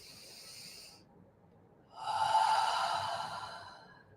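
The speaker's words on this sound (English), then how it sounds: "So take a cleansing breath as you receive that." A slow cleansing breath during a guided meditation: a soft breathy sound, then a pause, then a longer, louder airy exhale, heard alone and close.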